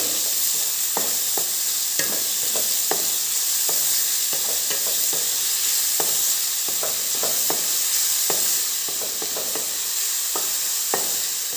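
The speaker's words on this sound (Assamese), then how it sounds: "এতিয়া পিঁয়াজখিনি ব্ৰাউন কালাৰ হোৱালৈকে ভাজি থাকিম।" Steady sizzling hiss of onions frying in a kadai until brown, broken by frequent light clicks and scrapes of stirring, with no voices.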